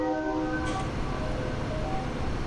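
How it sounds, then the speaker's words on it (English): Train rolling past in a farming video game, a loud, continuous rumble with steady sustained tones in it, holding level for a couple of seconds. "There goes a choo-choo train"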